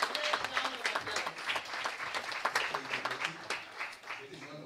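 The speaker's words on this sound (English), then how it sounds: "it is our honor to invite you to come and share with us a great round of applause" An audience at an International Women's Day celebration applauds steadily, a dense patter of many hands clapping at close range, with some voices mixed in.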